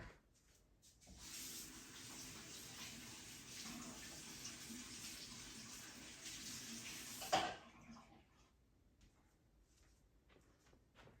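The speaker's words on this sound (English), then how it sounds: "I'm going to rinse them off real quick." A water tap runs steadily for several seconds while hands are rinsed under it, then shuts off abruptly with a small knock, leaving a quiet room.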